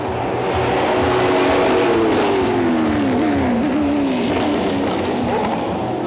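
Belgian Marc VDS Racing's number 40 Forte GT race car drives on a circuit, its engine roaring loud and close with a steady pitch that sweeps down as it passes, followed by a continuous mechanical drone.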